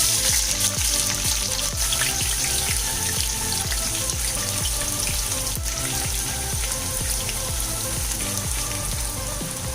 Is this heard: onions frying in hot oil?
yes